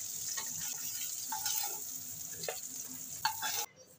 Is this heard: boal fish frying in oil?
yes